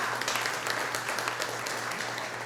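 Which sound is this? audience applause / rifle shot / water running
audience applause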